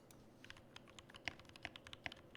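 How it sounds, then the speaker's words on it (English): Rapid keystrokes on a custom keyboard fitted with Infinity Amalfi keycaps, a steady run of close, crisp clicks and clacks with a few sharper, louder taps, heard alone with no talking. "It's hitting F row keys while I'm typing."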